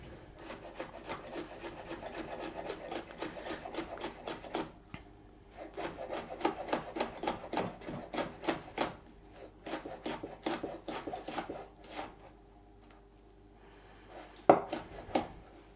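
A knife chops two green and two red peppers finely on a board, producing bursts of quick, regular close taps and scraping strokes with short pauses between runs, and no talking.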